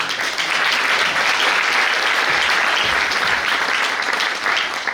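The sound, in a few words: audience applause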